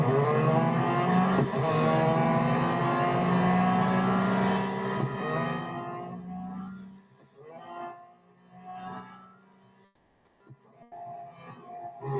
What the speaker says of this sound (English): There's a lot of cars on track.